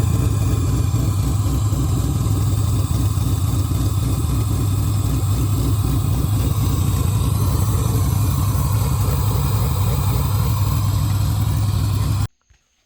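Car engine running on open headers, a loud, steady, throaty idle with a dense rumbling pulse that continues unbroken for about twelve seconds before cutting off suddenly at the end.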